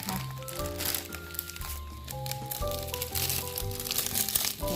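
A plastic bag crinkles and rustles as boiled bamboo shoots are packed into it, a busy close crackling with soft knocks and handling noise, under faint background tones.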